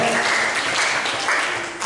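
School children clapping in a dense, steady burst of applause close by, lasting a couple of seconds with a brief swell at the end.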